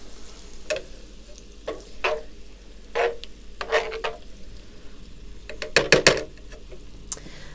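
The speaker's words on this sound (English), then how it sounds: "Just a little more butter. And just stir it together." Butter is stirred into a baghrir (Moroccan pancake) mixture with a utensil in a bowl, giving irregular scraping, clinking strokes in short bursts over a faint background, close and fairly soft.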